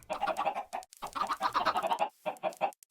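Chickens clucking in the Minecraft video game, a close run of choppy, repeated clucks and squawks in short bursts with brief pauses between.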